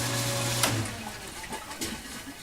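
Rinse water flowing and gushing through an ice cream machine being flushed clean before disassembly, a steady watery rush with a low pump-like hum, close and continuous.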